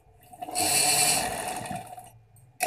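A sewing machine stitching a ladies' trouser gives a steady whirring run of about a second and a half, close and fairly loud, then slows and stops. No one speaks.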